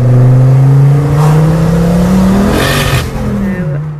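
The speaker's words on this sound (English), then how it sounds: "On a test drive, you will obviously hear a screamer pipe." Ford Focus RS Mk2 fitted with a big Garrett turbo and a screamer pipe, heard from the cabin on a test drive: a loud, steady engine drone that climbs in pitch, with a whooshing turbo rush and a brief shift near the end.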